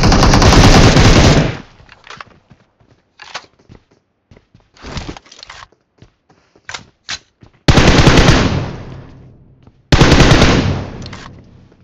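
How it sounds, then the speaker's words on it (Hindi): Loud bursts of automatic gunfire from a mobile shooter game crackle in long sprays, separated by short single shots and quieter gaps. "पीछे के साइड से गन फायर बहुत देर से आ रही है"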